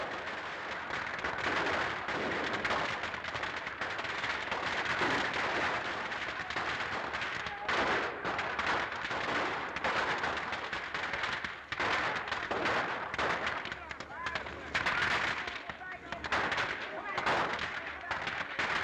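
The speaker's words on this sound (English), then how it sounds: "In fact, maybe machine gun, huh?" Machine gun fire rattles in repeated dense bursts through an old film soundtrack, loud and continuous with brief gaps, mixed with faint shouting voices.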